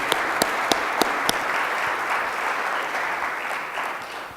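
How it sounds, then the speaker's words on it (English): A university plenary audience applauds with dense, steady clapping that carries at full strength for several seconds, a few sharp individual claps standing out near the start. "Let's give them a round of applause for this incredible accomplishment."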